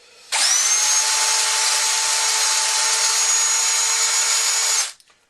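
A power drill with a 4.5 mm bit whirs steadily at high pitch for several seconds, loud and close, then spins down and stops.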